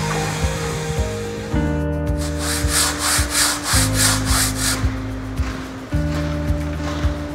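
A hand saw cuts through a Ytong aerated concrete block during interior partition wall building, with about eight rhythmic rasping strokes in the middle over steady background music, close and loud.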